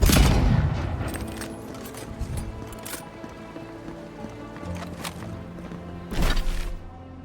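Gunfire at NPCs in Avowed: scattered sharp shots cracking over a busy game soundscape, with a heavier burst at the start and another near the end.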